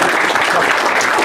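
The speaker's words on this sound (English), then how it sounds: "And one final round of applause for Joy" A dinner crowd in a House of Lords room gives loud, sustained applause, a thick unbroken wash of clapping from many people.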